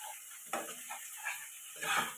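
Masala being stirred in a pan of hot oil before a fried katla fish head goes in for mung dal, giving soft scraping strokes over a steady sizzle, with louder bursts of stirring at intervals.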